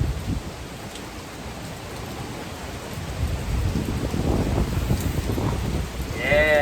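Steady rain drums on a metal roof in gusty, breezy weather, a dense continuous patter that swells slightly toward the end, with no speech over it.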